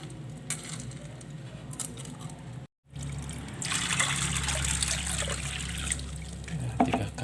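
Soybeans being rinsed in water for growing bean sprouts, with a steady trickling, sloshing wash that grows fuller and louder partway through after a brief gap, heard close with no talking.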